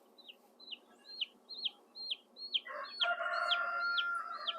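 Cornish cross chicks peeping close by, a rapid run of shrill repeated chirps that grows busier, with a second lower chirping layer joining toward the end.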